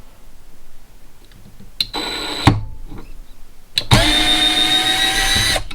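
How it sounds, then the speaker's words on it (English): A Hyper Tough cordless drill backs out a screw in two bursts, first briefly and then longer and louder, whining steadily as it spins, with clicks between. "See if it can back out its own screw."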